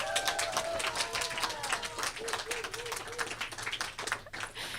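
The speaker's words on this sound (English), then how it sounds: "Let's give a round of applause for Alyssa Lucero." A school ceremony audience applauds a student named Student of the Semester, dense moderately loud clapping that continues steadily throughout with crowd murmur underneath.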